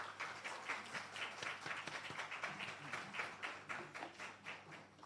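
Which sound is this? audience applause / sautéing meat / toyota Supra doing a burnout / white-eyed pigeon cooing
audience applause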